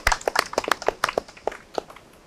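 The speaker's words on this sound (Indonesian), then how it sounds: "Boleh tepuk tangan sekali lagi teman-teman semuanya." An audience at a Festival 7 Sungai gathering at Cibuluh gives a short round of scattered clapping, individual claps distinct and close, tapering off after about two seconds.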